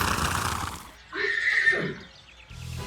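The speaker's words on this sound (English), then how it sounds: "Horse." A horse neighs in a loud, quavering whinny near the middle of the moment, preceded by a busier stretch of background sound and followed by quiet.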